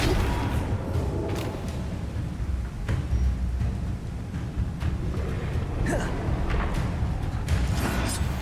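Spell effects from Hogwarts Legacy, the Flipendo jinx among them, land as a run of dull booms and thuds over steady low rumble, with brief whooshing bursts scattered through the stretch.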